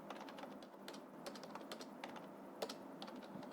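Keys tapped on a computer keyboard in quick, uneven bursts of clicks, moderately faint against a steady room hiss, with no talking.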